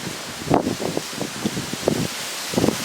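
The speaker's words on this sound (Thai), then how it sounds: "โอ้ยลม" Gusty wind buffets the microphone in uneven rushes, with a rustling, leafy texture and several stronger gusts, and no voices.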